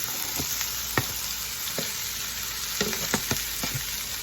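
Onions sizzle and fry in a pan, a continuous close hiss broken by several sharp clicks and taps of stirring, with no voices.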